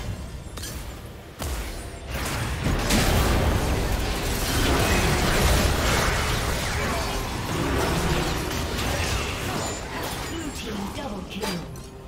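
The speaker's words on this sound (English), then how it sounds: "Red team's turret has been destroyed." A turret collapses in League of Legends with a rolling run of crumbling bursts, pops and mechanical clatter that swells and stays dense for several seconds, with a voice speaking over it.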